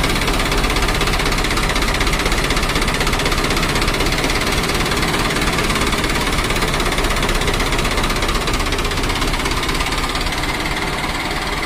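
An Arjun 605 DI tractor engine idling after power steering fitting, a loud steady diesel rumble with a fast knocking pulse, close and continuous with no talk.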